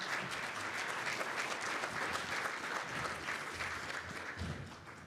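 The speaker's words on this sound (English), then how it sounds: "Round of applause" An audience at an annual meeting and excellence awards ceremony applauds steadily, a dense, even wash of clapping from a large crowd that fades a little toward the end.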